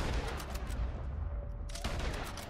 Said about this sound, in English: You shot the cover out right before I shot him.